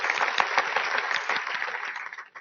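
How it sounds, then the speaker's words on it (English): Audience applause for a company team at a 2022 corporate investor day, dense and steady clapping from a large crowd that swells briefly and then tapers off at the end, with no voices over it. "So just a round of applause for the entire team."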